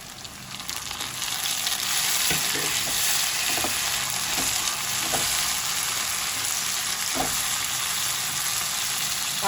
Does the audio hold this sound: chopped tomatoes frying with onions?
yes